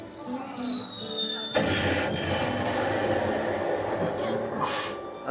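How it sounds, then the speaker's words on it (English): Fireworks effect from an interactive gag at Disneyland, a burst of booming pops and crackle that starts abruptly partway in and continues under a busy crowd with people talking. "somebody just set off the fireworks."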